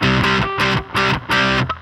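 Electric guitar played through a Deluxe Comp distortion pedal: three loud, held, heavily distorted chords, then a short fourth stab, heard alone.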